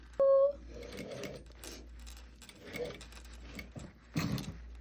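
Sewing machine stitching and gathering a leather sleeve with the needle down, a run of quiet mechanical ticking and whirring in short bursts, with a brief sharp tone at the start and faint background hum.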